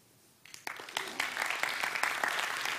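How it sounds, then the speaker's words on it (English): A TEDx audience at a climate conference at Wageningen University breaks into applause after a short quiet start, and the clapping quickly builds into a sustained, fairly loud round from a crowd. "round of applause"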